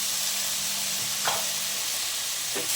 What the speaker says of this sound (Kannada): ಚೆನ್ನಾಗಿ ಫ್ರೈ ಆಗಬೇಕು ಆಲೂಗಡ್ಡೆ ಈರುಳ್ಳಿ ಎಲ್ಲ